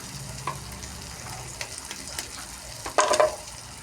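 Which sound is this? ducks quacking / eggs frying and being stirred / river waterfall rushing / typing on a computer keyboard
eggs frying and being stirred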